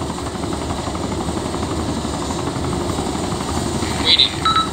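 A helicopter in ARMA 2 runs with a dense, rapid rotor chop and engine drone held at steady loudness, with brief radio-like beeps near the end.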